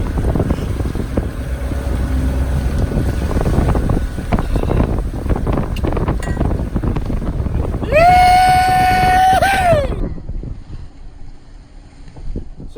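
A sailboat under way in the wind off San Francisco: steady wind and water rush with heavy microphone buffeting, plus a brief rising-and-falling tonal whine near the end.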